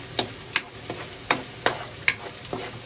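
Onion and garlic sauté in a pan for carbonara under a soft continuous sizzle, with regular scraping stirring strokes clicking about every half second, close by.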